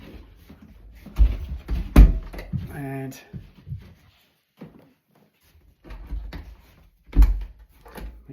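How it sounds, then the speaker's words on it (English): A front room door in a home is pushed shut, giving a couple of solid thuds and a latch knock between bursts of nearby talking and footsteps. "Let's just shut the front room door."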